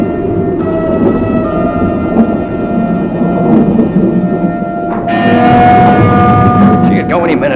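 Thunder from a lightning storm rolls and rumbles low and heavy throughout, swelling louder toward the end, while a faint steady tone lingers underneath.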